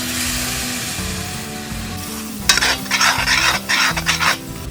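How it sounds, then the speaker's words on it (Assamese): Mushroom masala frying in a pan with a little water added, a loud close sizzle and repeated scraping stirs that grow sharper and more vigorous in the second half, with no talk. "এতিয়া অলপ পানী দি ভাজি ল'ম"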